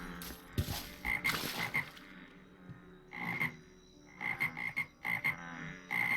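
Frog croaking sound effect in a modded Minecraft game, a run of short croaks repeating in irregular bursts with pauses between, fairly close and clear with no talk over it.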